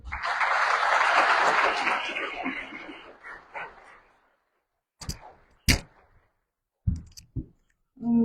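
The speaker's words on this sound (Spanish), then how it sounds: "Recibamos con un fuerte aplauso" An auditorium audience at a public health conference applauds to welcome a speaker: a loud, dense burst of clapping that fades out over about four seconds, followed by scattered sharp knocks and thumps.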